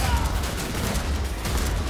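Gunfire in the video game Cyberpunk 2077, a dense, loud burst of rapid shots filling the whole moment, with a voice faintly present underneath.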